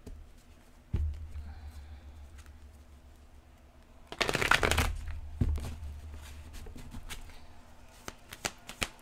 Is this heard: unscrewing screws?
no